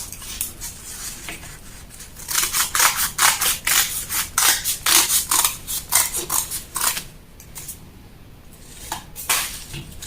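Scissors snip steadily through a paper bustier sewing pattern, each close, crisp cut following the last in a quick rhythm, then slowing and pausing near the end.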